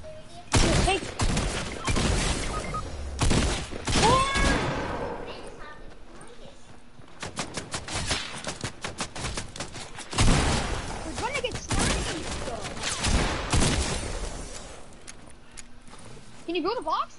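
A video game shootout with bursts of rapid gunfire, clusters of close sharp shots and fast repeated volleys, while players talk excitedly throughout.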